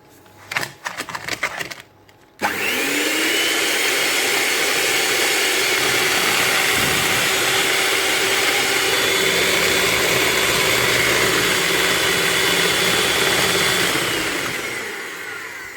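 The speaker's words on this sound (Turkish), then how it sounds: "iyice kabardana kadar çırpacağız" Electric hand mixer whisking three eggs with a cup of sugar in a bowl, starting with a few short clattering bursts, then a steady, loud, continuous whir that holds for over ten seconds before tapering off at the end.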